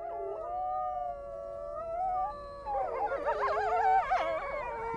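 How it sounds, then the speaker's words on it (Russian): A pack of wild wolves howls, one long sustained howl at first, then several voices joining in overlapping, wavering calls, fairly close and clear against a quiet background. "волки начинают выть"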